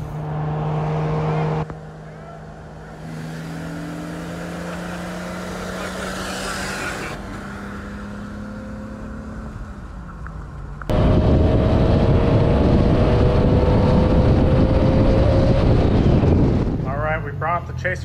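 A Toyota Chaser with a freshly fitted 1JZ turbo engine drives off, engine note rising through gears with a louder, harder pull in the second half, wind buffeting and occasional voices in the car.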